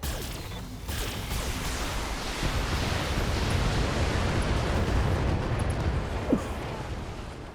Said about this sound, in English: Discharging weapon.